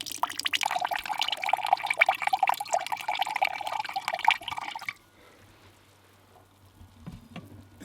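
Half a cup of soy sauce pours in a steady, splashing trickle for about five seconds, then stops, leaving a quiet background with a faint clink.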